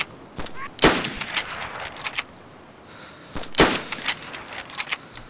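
Sniper rifle shots in DayZ Standalone: two sharp, loud cracks about three seconds apart, each followed by brief rattling and clattering game sounds, with no talking.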